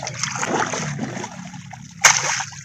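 Running water splashes and trickles in a village home, a steady wash that swells and dips with a sharp burst of splatter near the end, voices faintly underneath.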